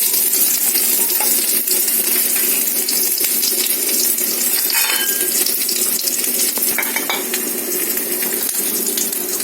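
Garlic, with a pinch of cumin, sizzling and crackling steadily in hot oil for a village-style sour greens fry, a bright, continuous hiss close up with occasional stirring clinks.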